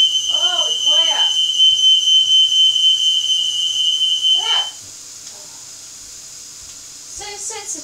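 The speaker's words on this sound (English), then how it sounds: "I shut the door because I know the blooming alarm's going to go off otherwise" A smoke alarm shrills in a home kitchen during cooking, a piercing steady tone for several seconds before cutting out, while voices talk over it in short bursts.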